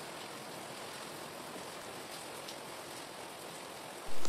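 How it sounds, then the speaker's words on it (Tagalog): Heavy rain pours down in a constant, dense hiss with no pauses, filling the whole scene evenly. "malakas ang ulan, kaya may ingay yung background natin"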